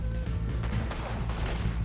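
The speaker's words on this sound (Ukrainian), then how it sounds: "Та нафіг ви стріляєте, просто їдьте." Gunfire and chaotic action sounds from Red Dead Redemption 2 during a getaway from a town after a bank robbery, with dense rumbling noise and sharp bursts running continuously throughout.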